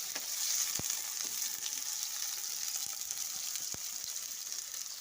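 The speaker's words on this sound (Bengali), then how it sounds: "আমি আলুগুলোকে এবার কড়াইতে দিয়ে দিচ্ছি, কড়াইতে দিয়ে ভেজে নেব একটু লাল লাল করে" Potato pieces frying in a kadai until reddish: a continuous bright hissing sizzle with scattered sharp pops and ticks, close and steady, with no talking.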